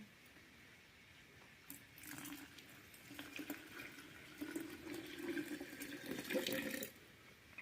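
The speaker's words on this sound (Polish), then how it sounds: "No i teraz zalewamy to wodą, najlepiej taką właśnie do 40 stopni letnią." Lukewarm water, about 40 degrees, is poured over oats in a kitchen to start an oat sourdough starter, a soft trickle that swells into a fuller, bubbling stream for several seconds before stopping.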